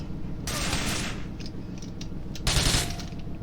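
Rapid automatic gunfire from a fast weapon in the video game GTA IV, with two dense loud bursts separated by a brief lull and some mechanical clatter, no speech.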